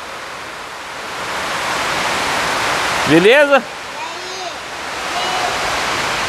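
Rainwater running over pavement gives a steady broadband wash from start to finish, while a voice briefly speaks over it in the middle.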